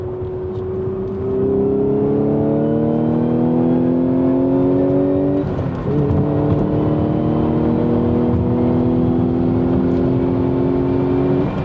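A 2016 Audi S5 with a manual gearbox accelerates hard onto a highway, its engine droning loud and steady as it climbs through the revs, dips briefly at a gear change, then pulls up again.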